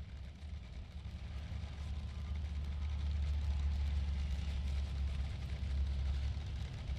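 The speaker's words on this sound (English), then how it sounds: "you're actually idling with boost pressure in the manifold here in Denver most of the time" A supercharged Top Fuel Funny Car engine idles at a drag strip in Denver, a deep steady low rumble that swells slightly in loudness, continuous and fairly distant, with no talking.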